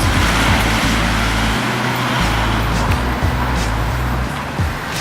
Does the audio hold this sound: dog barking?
no